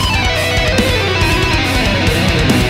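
A quick, busy electric guitar line blending a time-stretched recording with a Guitar Pro software export, thick, full tone, notes tumbling fast and evenly over roughly three seconds, loud and continuous with no voices.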